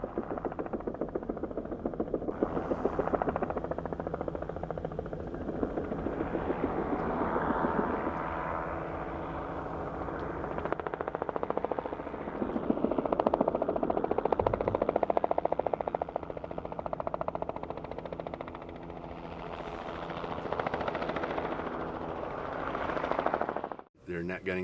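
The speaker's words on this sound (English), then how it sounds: "So we have a helicopter that's got a capture crew of 3." Helicopter carrying a three-person wildlife capture crew netting pronghorn, a continuous rotor thump and engine drone filling the scene at steady loudness, with voices talking over it.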